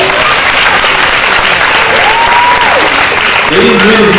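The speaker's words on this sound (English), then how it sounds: "So let's give them one more big round of applause" Loud, steady audience applause at a school sports banquet honoring a high school boys team, dense clapping filling the room for several seconds, with a voice speaking briefly under it near the end.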